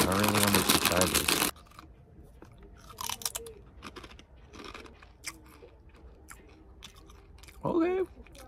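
Doritos Blazing Buffalo and Ranch chips being crunched and chewed, with scattered crisp bites and rustling spread across a quiet stretch, bracketed by louder voice-like sounds at the start and near the end.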